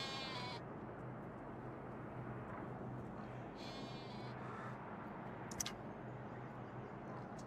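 Sheep in a Farming Simulator 22 pasture bleat faintly a few times over a low ambient hum, the calls distant and quiet, spaced irregularly with no talking.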